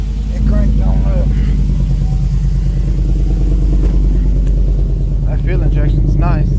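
A fuel-injected vehicle engine, the project car called Orange Slice, idles steadily just after a cold start, a loud, even low rumble running the whole time, with someone talking over it.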